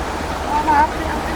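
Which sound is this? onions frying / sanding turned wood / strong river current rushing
strong river current rushing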